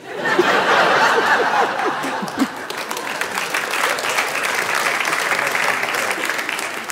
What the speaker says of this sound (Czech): Já jsem zvědavý, jestli budete takhle tleskat i po našich současných písničkách.